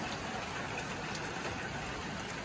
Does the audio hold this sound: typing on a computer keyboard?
no